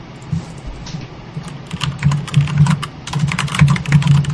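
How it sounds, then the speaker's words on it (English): Typing on a SteelSeries 6G V2 mechanical keyboard, a steady run of sharp, close keystroke clicks with a bunched, uneven rhythm and louder bursts, heard alone without talk. "This is my 6G V2 SteelSeries keyboard, which is amazing."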